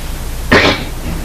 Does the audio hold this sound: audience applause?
no